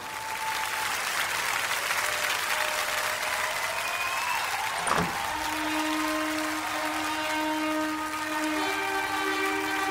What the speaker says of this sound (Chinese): 让我们再一次响起热烈的掌声，有请新娘入场。